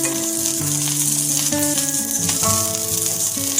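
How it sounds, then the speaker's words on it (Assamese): Chopped garlic and green chillies sizzle steadily in a small amount of hot oil in a pan, a constant close hiss with light crackle beneath background music. "মই ইয়াত ৰাখি থোৱা নহৰু আৰু জলকীয়াখিনি অলপমান ভাজি ল'ম"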